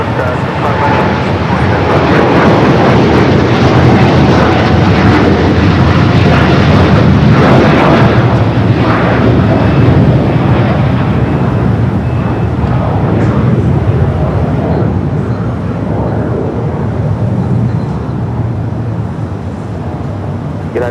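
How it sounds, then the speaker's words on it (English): A Boeing Dreamliner jet rolls down runway 25 right at LAX with a loud, continuous engine roar that builds and holds, as a voice talks over it. "the Dreamliner rolling down to 25 right"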